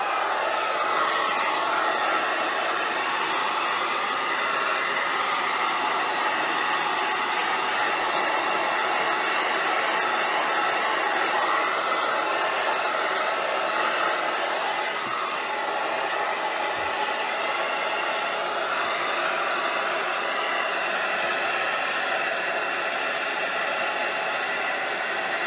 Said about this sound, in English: break out the dryer, dry this